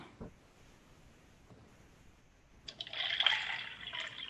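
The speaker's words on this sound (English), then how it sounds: "pouring water into a cup, sort of Literally sound" Water pours into a cup for about the last second and a half, a steady, close splashing fill that follows near-silence with a couple of faint knocks.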